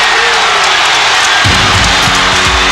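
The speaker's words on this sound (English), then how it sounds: "Listen to the crowd." A basketball arena crowd at a 1994 NBL North Melbourne Giants game, a loud continuous roar of cheering that swells further midway, with thudding bursts underneath and no clear talk.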